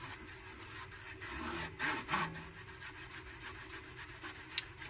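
Pitted chrome-plated plastic trim on a Lasonic TRC-975 boombox being rubbed and polished by hand, a quiet, steady scrubbing rasp with faint rhythmic strokes, heard alone and close.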